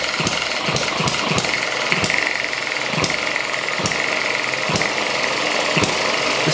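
An ET6 hit and miss engine runs under load, giving a steady train of sharp, regularly spaced firing knocks over a loud mechanical clatter, close and without talk.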